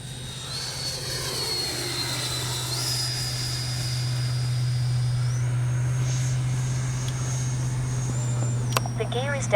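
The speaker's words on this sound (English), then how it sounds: "Man, what a smooth, locked-in flying jet." A Freewing 80mm L-39 RC jet flies overhead with a steady whining turbine hum whose pitch rises and falls as it passes. Someone talks over it.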